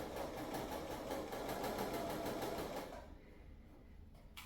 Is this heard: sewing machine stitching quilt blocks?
yes